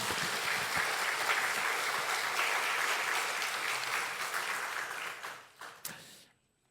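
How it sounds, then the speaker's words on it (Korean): A church congregation applauds, dense steady clapping from many hands that rings on for several seconds, then thins out and fades to silence. "우리 하나님 앞에 영광의 박수 올려드리겠습니다."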